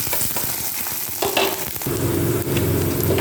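Chili and onion hit a hot wok already holding panch phoron and crushed garlic, with spatula scrapes at first, then a louder, steady sizzle of frying that holds to the end.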